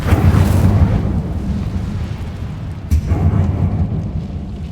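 A fire spell cast in a video game, a loud roaring whoosh of flame that swells at once, dips, then bursts again near the three-second mark and rumbles on to the end, with no voices.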